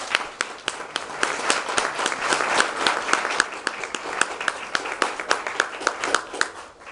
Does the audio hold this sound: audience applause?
yes